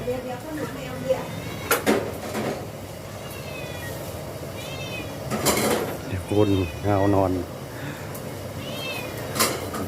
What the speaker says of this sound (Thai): แมวก็ได้